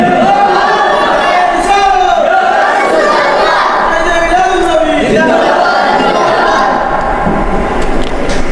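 A large crowd at an Eid-e-Miladunnabi religious gathering shouts Allahu Akbar in answer to a takbir call, a loud, sustained chorus of many voices rising and falling together.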